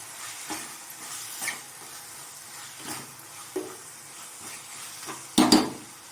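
Medium-cut tomatoes sauté in a pan for cauliflower biryani, with a quiet sizzle and periodic soft stirring scrapes. A louder clank of the utensil against the pan comes near the end, and no one talks.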